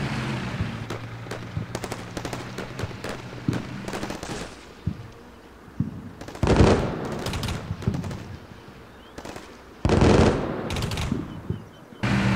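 Machine gun fire in the war game Combat Mission Shock Force rattles in repeated bursts of loud, sharp cracks, with heavier blasts and a low rumbling backdrop, and no talking over it.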